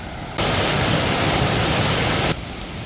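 Water pours down in a fountain in Hong Kong Park, Central, a loud, steady broadband rush that begins abruptly and cuts off just as suddenly near the end.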